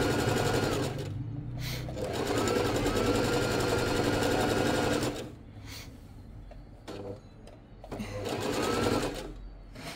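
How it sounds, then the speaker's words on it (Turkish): Sewing machine stitching a child's kimono-style gown in fine, narrow seams, a steady buzzing motor run that stops and restarts in two long bursts with a quieter pause between. "Böyle ince ince dikiyoruz."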